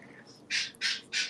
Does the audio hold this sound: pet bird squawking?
yes